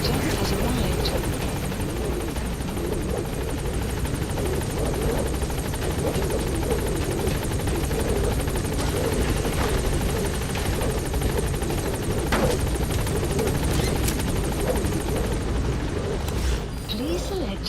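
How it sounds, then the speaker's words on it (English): Steady loud helicopter rotor thumping and engine whine from a support helicopter arriving in Metal Gear Solid V: The Phantom Pain, continuous throughout with faint bursts of gunfire and a brief voice. "Support helicopter has arrived."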